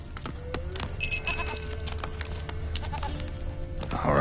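A goat in The Witcher 3 video game bleats a few times amid clip-clopping hooves, clicks and ambient game noise, moderately close and fairly quiet.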